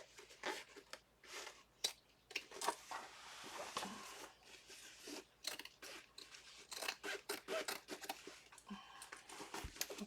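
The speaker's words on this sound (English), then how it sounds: "I'm gonna cut these jeans up, and these scissors are really good for this." Sharp scissors slice through old, well-worn denim jeans in a steady series of crisp snips and crunchy cuts, close and fairly loud, with short pauses between strokes.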